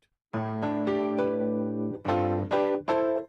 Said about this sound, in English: acoustic piano, Fender Rhodes, and Wurlitzer all melded together into a brand new sound